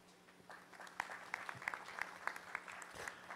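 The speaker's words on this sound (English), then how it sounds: "I'd like to have a round of applause for everyone" Scattered, fairly quiet clapping from attendees at a climate report launch event, with individual claps standing out over a low room hum.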